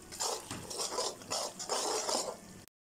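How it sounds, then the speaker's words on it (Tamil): A spoon stirs fried onions, coriander and spring onions in a pan, giving rhythmic scraping and clinking strokes, close and moderately loud, before stopping abruptly. "மிக்ஸ் பண்ணிட்டு நல்லா கிண்டி விட்ருங்க"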